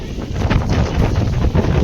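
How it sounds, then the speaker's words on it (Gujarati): Strong wind buffets the microphone in a continuous loud rumble with gusty surges, no voices present, at Vadatalav lake at the foot of Pavagadh hill, Gujarat. "પવન તો બહુ જ છે।"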